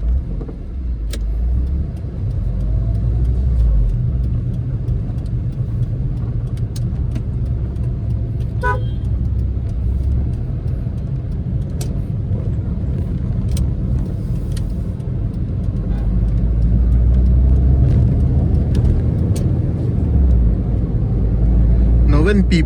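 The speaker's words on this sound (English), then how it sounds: "ऐसा sweet sounding motor" A 22-year-old Tata Indica petrol car cruising around town in fourth gear at about 40 km/h, a steady low engine rumble with road noise, occasional horn toots from traffic, and someone talking over it.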